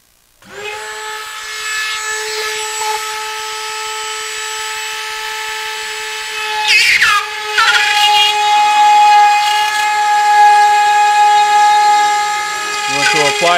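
A Ryobi rotary plunge saw whines at high speed while cutting into a wall, a steady loud motor tone near the microphone that briefly dips and strains around the middle as it bites into the material.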